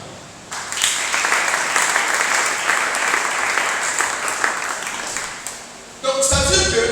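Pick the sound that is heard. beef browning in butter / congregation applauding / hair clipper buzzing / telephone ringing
congregation applauding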